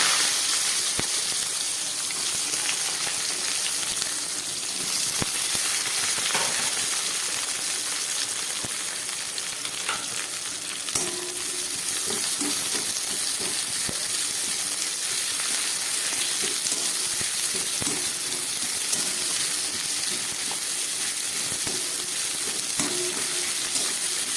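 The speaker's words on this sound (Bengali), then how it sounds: "পেঁয়াজগুলোকেও খুব ভালোভাবে ভেজে নিচ্ছি" Steady, loud sizzling of onions frying in hot oil for a dried fish dish, a continuous crackling hiss with occasional small pops and stirring clinks, no talking.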